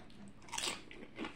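A single bite into a crunchy fried potato taco, a close, quiet crisp crunch with a short follow-up crackle, no voices.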